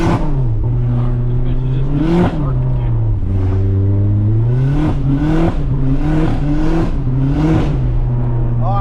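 A Nissan 240SX with a KA24E engine revs hard while its tires spin, the engine note rising and falling in repeated loud surges with bursts of tire noise, close and continuous throughout.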